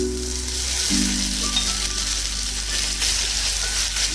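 Ginger and cumin paste dropped into browned fried onions in a pan for a thor chingri curry, sizzling loudly and continuously up close with a steady hiss.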